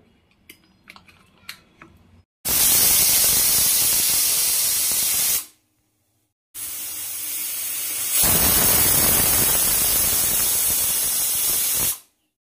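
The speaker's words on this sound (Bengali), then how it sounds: "দুটো সিটি দিয়ে নিয়েছি, এবার প্রেসার কুকারটা নামিয়ে রাখবো" A pressure cooker holding bottle gourd and dal lets out steam in two long, loud hissing bursts separated by a short silence, after faint clicks and rustles at the start.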